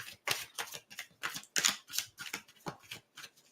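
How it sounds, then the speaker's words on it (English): A deck of tarot cards is shuffled by hand, giving a series of quiet, separate papery slaps and riffling bursts in an uneven rhythm, close by and with no talking. "I'm shuffling"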